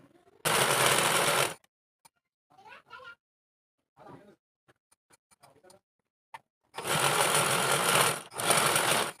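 A sewing machine stitches a fabric pencil pouch in two loud, steady bursts of rapid needle chatter, one at the start and one at the end, with a person speaking briefly in between.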